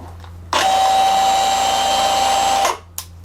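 A cordless variable-speed angle grinder with trigger handle runs at its lowest setting, about 3,500 RPM: a sharp spin-up into a steady, loud whine with a constant pitch for about two seconds, then a quick drop-off and a short click.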